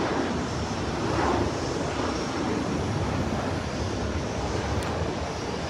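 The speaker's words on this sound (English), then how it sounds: "let's see if we're watching the takeoffs, some of the planes" Airplanes taking off at London Heathrow airport, a steady broad engine roar heard from a distance and mixed with wind buffeting the microphone, with no voices.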